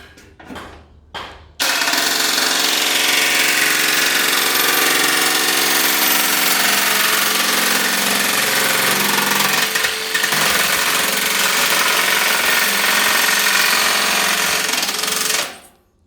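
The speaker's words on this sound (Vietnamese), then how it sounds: "Bây giờ mình sẽ thử cái tính năng cắt tôn nhé" A cordless drill fitted with a saw attachment starts up and grinds steadily and harshly through sheet metal for over ten seconds, a loud rasping cut that halts abruptly at the end.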